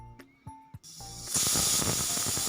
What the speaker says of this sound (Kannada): ಅನ್ನ ವಿಷಲ್ ಆಗ್ತಾ ಇದೆ.